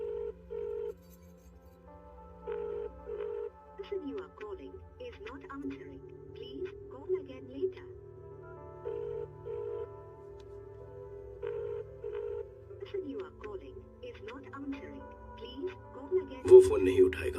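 A telephone rings repeatedly in short paired tones, steady and regular, with quiet talking and background sounds underneath.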